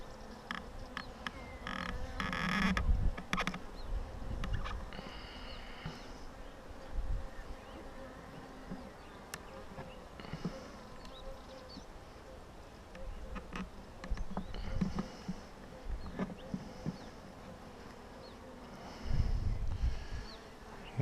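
Honeybees buzz around an open hive during a spring garden inspection, a continuous mid-level drone swelling and fading as bees fly near, with occasional handling knocks and no talk.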